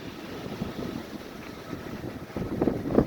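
High winds buffeting solar PV trackers outdoors: a steady, rough gusting rush with low rumbling microphone buffeting that swells slightly toward the end, no voices.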